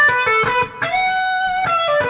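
A brief blues rock lick in B on distorted electric guitar, a few quick picked notes followed by a sustained, ringing bend, loud and close with no accompaniment.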